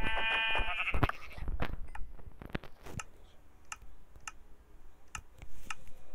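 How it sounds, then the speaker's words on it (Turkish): Sheep bleats from the Minecraft video game, a few short repeated calls spaced across the clip over soft game ambience and ticking, moderately loud and close, with no talking. "koyun koyun koyun koyun koyun koyun koyun koyun koyun"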